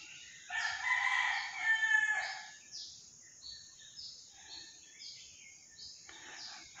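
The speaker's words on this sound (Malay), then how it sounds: "Hanya ayam saja yang berkokok." A rooster crows in a quiet longhouse village, one clear crow up close followed by fainter, repeated crowing and clucking from other fowl farther off.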